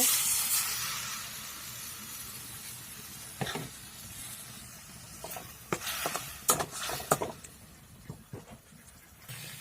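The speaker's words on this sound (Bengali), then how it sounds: "এখন একটু জল দিয়ে দেব।" Water poured into a hot pan of egg masala with tomato and spices: a bright hiss flares at the start and then settles into a crackling sizzle with scattered sharp pops and the scrape of stirring.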